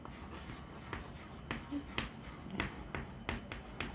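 Chalk or marker strokes on a classroom board during a chemistry lesson, a string of short, sharp taps and scrapes spaced irregularly, moderately close but soft, with no talking over them.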